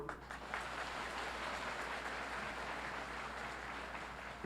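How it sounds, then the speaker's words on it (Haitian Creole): An audience of women applauds at a community celebration, steady dense clapping from many hands that holds at an even level throughout, moderately distant and without voices. "Mesdames, un gros applaudissement."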